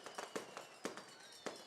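Fireworks at a high school football game pop and crack in irregular bursts, several sharp distant booms spaced apart over the stadium ambience.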